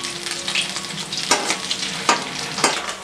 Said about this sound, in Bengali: মাছগুলো ভাজা হয়েছে